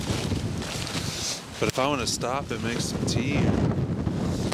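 Wind buffeting the microphone on a cold winter hiking trail in Shawnee Mission Park, a steady, close rumbling gust under someone talking throughout.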